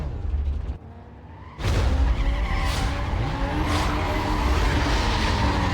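A street race car skidding in the video game Need for Speed Most Wanted, with a loud engine drone and long tire squeals that rise and fall, starting after a brief quieter lull.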